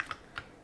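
A few quick taps on a computer keyboard, three soft close keystrokes spaced apart, with no talking.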